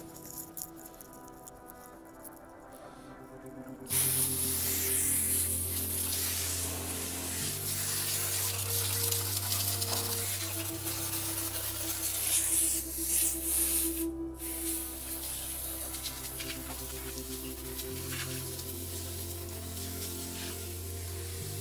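Water spray rinses a very dirty car, a steady broadband hiss of pressurised water that starts abruptly after a few seconds of quiet and runs continuously, fairly close, with no talk.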